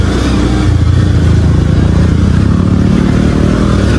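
A motorcycle ridden off-road for the first time gives a loud, continuous engine drone mixed with heavy wind buffeting and rattling from the rough track.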